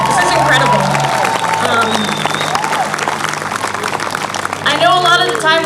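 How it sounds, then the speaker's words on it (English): A crowd at a Bans Off Our Bodies rally claps and cheers for itself, with steady, dense applause throughout and a voice talking over it on a loudspeaker. "Applaud yourselves for being here, honestly"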